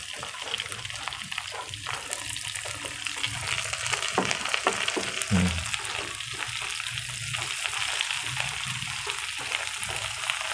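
Cabbage frying in a pan in a home kitchen for a Filipino vegetable dish, a steady close sizzle and crackle running throughout with occasional stirring clatter.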